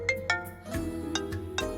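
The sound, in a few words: mobile phone ringtone, incoming call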